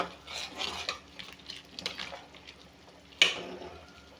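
A metal pot lid clinks as it is lifted off a pot of water heating for rice, with soft scraping and handling noises and one sharp clatter near the end, close and fairly quiet.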